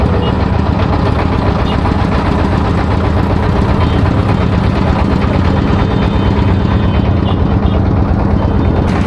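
A motorboat engine runs loud and steady as the boat turns on a wide wetland, a close, constant low rumble with a rattling vibration and no pauses.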